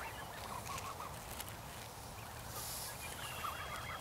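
Geese honking and calling in short bursts, fairly faint over a steady background hum, with no talking.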